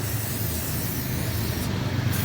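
An aerosol can of engine cover dressing sprays onto the engine cover in a Geely engine bay, giving one continuous close hiss that lasts about two seconds without a break.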